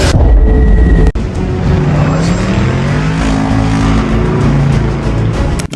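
A 2007 Chevy Camaro with a 3.6-liter V6 roars loudly and steadily in a movie scene, engine tone climbing and holding under a dense layer of effects and rumble, with a sharp impact near the start.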